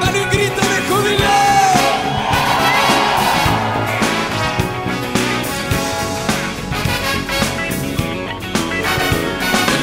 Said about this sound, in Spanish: Dale un grito de júbilo.